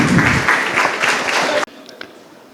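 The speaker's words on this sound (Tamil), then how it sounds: "அனைவரும் கைத்தட்டி அவர்களுக்கு பாராட்டு தெரிவிப்போம்" An audience at the Mumbai Nadar Sangam education feast gives loud, dense applause for about a second and a half. It then cuts off sharply, leaving quiet room noise.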